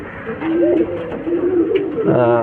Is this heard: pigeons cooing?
yes